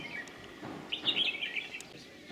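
Small birds chirp from an Indian coral tree packed with birds, with a few bright overlapping calls rising mid-clip over a soft outdoor background.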